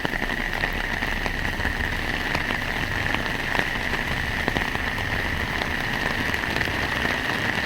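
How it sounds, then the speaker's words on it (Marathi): Heavy torrential rain pours down in Nashik as a dense, steady roar of drops on surfaces, loud and continuous throughout with no voices. "खूप जोरदार मुसळधार असा पाऊस जो आहे तो बरसतो आहे"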